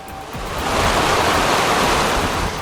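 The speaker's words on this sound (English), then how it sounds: "That water is raging." Raging floodwater roars as a broad, loud, continuous rushing wash where a truck is at risk of being swept away, steady and close with no voices.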